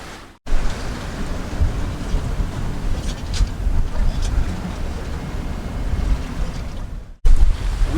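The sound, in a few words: sailboat cruising at sea in wind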